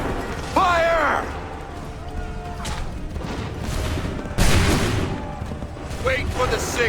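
A musket volley in Assassin's Creed III lands as a dense, loud burst, followed a few seconds later by another heavy crack amid battlefield din and shouting voices.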